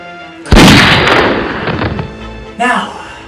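A single loud, close gunshot in a film scene, a sharp blast with a long decaying rumble, followed about two seconds later by a second, shorter impact-like burst.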